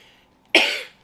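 A single sharp, close cough bursts out after someone chokes on their own saliva, with a raspy throat-clearing tail that fades within half a second, set in an otherwise quiet room.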